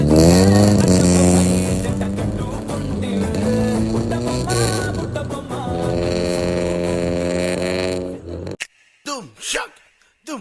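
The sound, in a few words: vehicle engine revving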